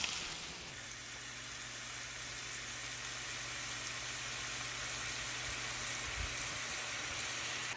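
Shrimp and diced green onions fry in bacon grease with a steady, even sizzle that holds at moderate level throughout, with no talk.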